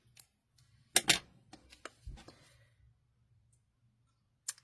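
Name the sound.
cutting out a cardstock piece for a Stampin Up card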